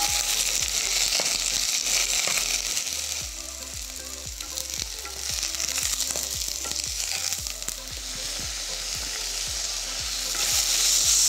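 Mushrooms sear in a hot pan for udon noodle soup, a steady loud sizzle broken by repeated scraping and stirring strokes, with a short thump near the start.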